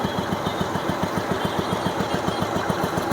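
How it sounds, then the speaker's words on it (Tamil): A 2001 Royal Enfield Bullet motorcycle idles close by, its single-cylinder engine thumping in a steady, even rhythm with no voices. "இன்ஜின் பீட்டு எப்படி இருக்குன்னு பாருங்கள்."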